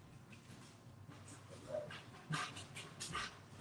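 A dog just let outside pants quickly in short rhythmic breaths, faint and fairly close, with a small whimper in the middle and no talking.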